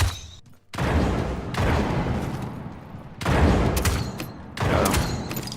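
Gunfire in the video game Realm Royale comes as loud, dense bursts of shooting lasting a second or more each, separated by brief gaps.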